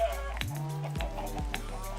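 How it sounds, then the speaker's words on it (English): Chickens cluck and squawk in the Minecraft video game, several short clucks in an irregular rhythm over continuous in-game music and background sound. "Let me get some of these chickens. Look at all those chickens."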